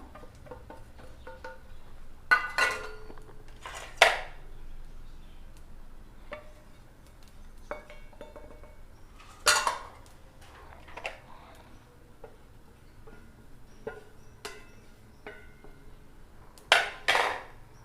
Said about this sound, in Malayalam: അപ്പോൾ നമുക്ക് പൊടികളെല്ലാം ഒന്ന് ചൂടാക്കിയെടുക്കാം